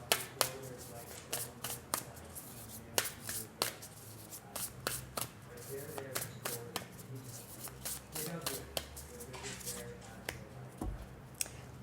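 Oracle cards are shuffled by hand in repeated sharp riffling bursts and soft slaps, close and crisp, spread irregularly across the stretch with a voice speaking quietly between them.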